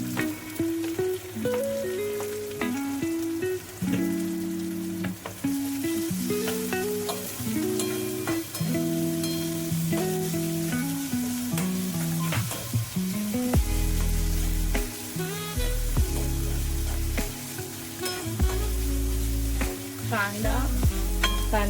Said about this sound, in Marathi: कांदा ब्राऊन होईपर्यंत चांगला परतवून घ्यायचा.